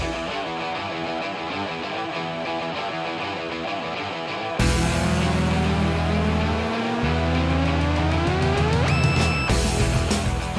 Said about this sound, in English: Out go the lights though. Away we go here at Snetterton as they charge towards riches.